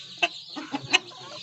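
A hen with chicks clucks in a series of short, close calls, three or four brief sharp notes over a quiet background.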